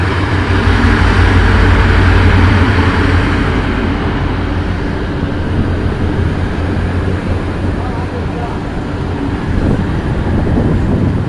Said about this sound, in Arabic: وهذا القطار السريع متجه من المنصورة إلى القاهرة.